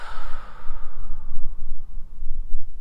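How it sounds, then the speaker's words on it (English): One long, deep breath goes out through the mouth, close and breathy. It fades gradually over about three seconds, and there is no talking. "I like to breathe in through my nose and fill up my belly. And then exhale through my mouth."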